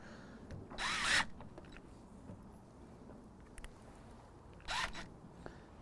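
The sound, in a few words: cordless impact drill driving into wood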